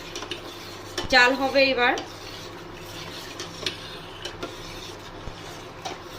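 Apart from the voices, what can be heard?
stirring milk in a pot while it heats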